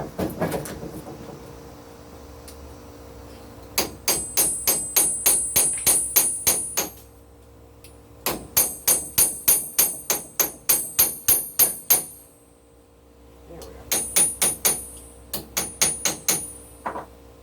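Rapid, ringing metal-on-metal hammer strikes on a screwdriver tip resting on a sledgehammer head used as an anvil come in three long bursts with short pauses between, close and loud.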